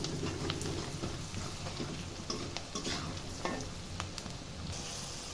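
Onion fries with salt, turmeric, chilli, coriander and cumin powders in a pan, making a faint, steady crackling sizzle with light stirring clicks and scrapes, quiet and continuous.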